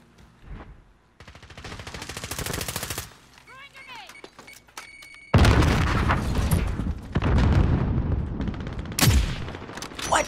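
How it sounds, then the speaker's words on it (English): Grenade blast and bursts of gunfire in a shooter video game, rapid rattling volleys followed by a loud boom and sustained crackling fire, close and harsh. "Throwing grenade!"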